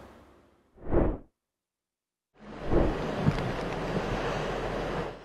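Sea waves crash ashore as Typhoon Ragasa approaches, with a short loud surge of surf, a moment of silence, then a sustained roaring wash of water and wind.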